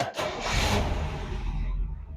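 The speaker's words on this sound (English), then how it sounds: "Fires right up. Just turnkey. She's idling good." An old classic car's engine starts and settles into a steady low idle, a broad rumble that holds throughout, close and fairly loud with no talk.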